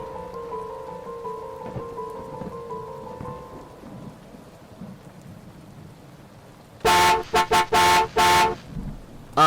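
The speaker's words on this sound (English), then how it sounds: "Irene heard it honk." After a quiet stretch with a faint rain-like wash, a car horn blasts loud and close in a quick series of about five short honks near the end.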